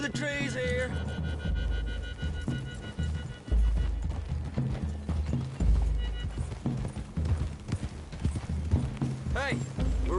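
Horse hoofbeats clip-clop at a steady riding pace in Red Dead Redemption 2, set against loud game music, with voices talking over them.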